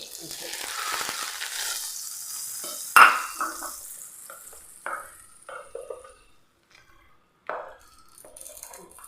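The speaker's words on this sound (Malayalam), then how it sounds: "ഇനി ഇതിലേക്കുള്ള താളിപ്പൊന്ന് റെഡിയാക്കി എടുക്കും." Tempering spices hit hot oil for a chutney with a loud, sudden sizzling burst that fades into softer crackles, followed by scattered clinks of a pan and utensils in a quiet kitchen.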